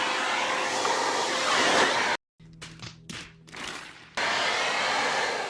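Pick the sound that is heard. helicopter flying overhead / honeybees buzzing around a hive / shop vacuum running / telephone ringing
shop vacuum running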